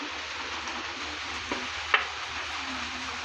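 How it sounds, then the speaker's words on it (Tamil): Cumin, pepper, cardamom and cloves roasting in a little oil, a steady gentle sizzle with a couple of faint stirring scrapes, close and quiet. "கொஞ்சமாக எண்ணெய் விட்டு நம்ம இப்போ வந்து இதை வறுத்துடலாம்"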